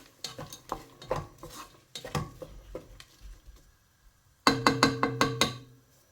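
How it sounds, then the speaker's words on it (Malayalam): Onions are stirred as they sauté in a pot for beef keema rice. A spoon scrapes and knocks in uneven bursts over a faint sizzle, with a quick run of louder, regular clanks near the end. "നമുക്ക് ഇടയ്ക്കിടയ്ക്ക് ഒന്ന് ഇളക്കി കൊടുക്കണം. അടി പിടിക്കുമോ നോക്കുന്നതിന് വേണ്ടിയാണ്."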